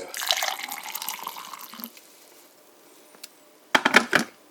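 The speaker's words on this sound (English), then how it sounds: "You pour it into this glass." Liquid poured into a glass while mixing Gatorade Zero Sugar Orange with pineapple coconut sparkling water, a close splashing pour for about two seconds, then quiet and a few short bubbly splashes.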